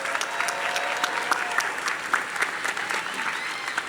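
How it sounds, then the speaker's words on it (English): A crowd at a high school commencement ceremony applauds the graduating class of 2025, with dense, continuous clapping and a few sharper individual claps standing out through the short burst. "Let's give a round of applause for all of our graduates."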